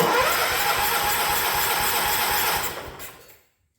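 Single-cylinder engine of a 1985 John Deere 212 lawn tractor, running on ether, chugs loudly with a rapid rhythmic beat close by, then sputters and dies to silence.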